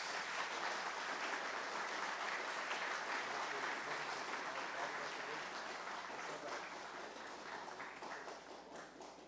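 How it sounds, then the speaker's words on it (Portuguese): A church congregation applauds together during a Presbyterian worship service, steady dense clapping filling the room for several seconds and slowly thinning toward the end. "Vamos aplaudir Jesus,"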